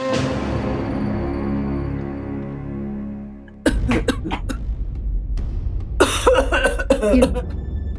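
A woman coughs several times in rough bursts, close by, after a stretch of sustained music-like tones.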